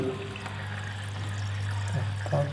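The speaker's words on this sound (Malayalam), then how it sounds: "ഫിൽറ്റർ നമ്മൾ ഓൺ ആക്കിയിട്ടുണ്ട്" An aquarium filter runs in a home-built betta fish tank, with water pouring and trickling in a steady, continuous stream at close range.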